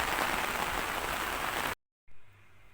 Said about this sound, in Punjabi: ਅੱਜ ਤਾਂ ਮੀਂਹ ਬਹੁਤ ਜ਼ਿਆਦਾ ਪੈ ਗਿਆ ਜੀ